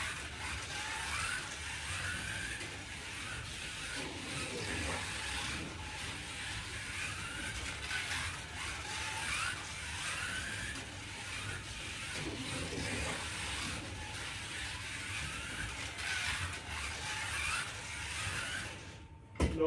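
A slot car with softer tyres and better braid runs laps on a track, giving a steady, faint electric motor whine and rolling buzz that rises and falls slightly throughout, with no voices.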